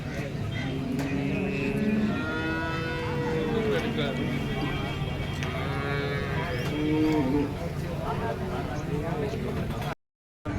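Cattle at the Seenapuram cattle market near Perundurai, Erode, in Tamil Nadu, lowing repeatedly at close and middle distance over a busy murmur of crowd talk, before a short silent gap at the end.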